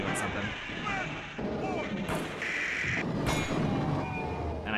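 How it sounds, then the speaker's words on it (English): Gunfire in the video game Alien vs Predator, bursts of heavy shots and booms amid game effects, moderately quiet, with someone talking over it. "I'm hearing gunfire up ahead"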